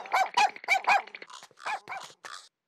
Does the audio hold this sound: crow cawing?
no